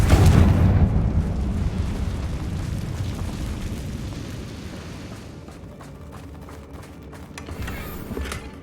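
A Confringo blasting spell explodes in the Hogwarts Legacy video game, a loud, deep boom that opens the clip and then fades into a long rumbling tail of debris.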